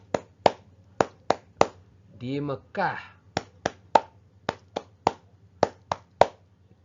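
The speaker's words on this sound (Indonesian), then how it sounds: "beginilah caranya tepuk tangan surat Al-Fatihah" Rhythmic hand clapping accompanies a Surah Al-Fatihah recitation: sharp, close claps in a steady pattern, with a brief spoken phrase breaking the sequence midway.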